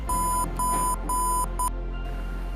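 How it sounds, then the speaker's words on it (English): An Arduino-driven speaker sounds a steady 1000 Hz beep tone in four loud pulses, three long and one shorter, with brief gaps between them, then stops. "speaker starts beeping the sound of frequency 1000 Hz for duration 350 microseconds"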